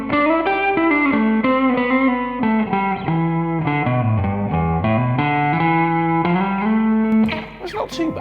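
A guitar runs through an original Line 6 Pod with reverb added, playing a distorted, sustained melodic line that stays loud and steady before thinning out into scattered plucks near the end.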